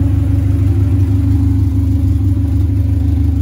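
A JDM Honda Integra's engine hums steadily from inside the cabin while driving, a close, continuous low drone with a faint mechanical clatter and no voices.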